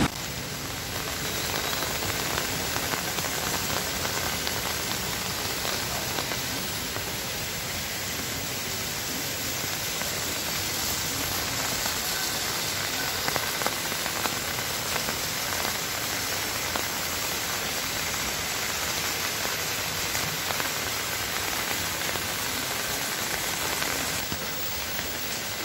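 Heavy rain pours onto flooded streets in Hyderabad as a dense, steady hiss that stays even and moderately loud throughout, with no voices over it.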